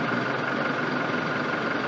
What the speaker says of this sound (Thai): พอเหยียบเบรกแล้วก็กดปุ่มพุชสตาร์ทเข้าไปหนึ่งครั้ง เราก็สตาร์ทเครื่องให้เลย